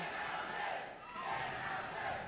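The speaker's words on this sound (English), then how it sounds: "The crowd's starting to become alive again." Pro wrestling crowd roaring in a steady, dense wash of cheering and shouting, loud and sustained throughout with a slight dip midway.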